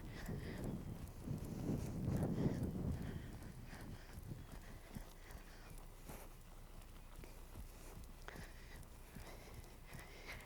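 A horse walks under a rider during bridleless training, soft muffled hoof falls plodding in a loose steady rhythm on soft ground, moderately near, with a louder thump and shuffle early on and quiet ambience throughout.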